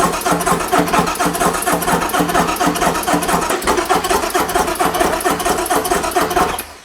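Loud motorcycle engine on a King of the Baggers race bike running steadily for its first start-up, with a rapid, even mechanical chatter close to the mic until it cuts off abruptly at the end.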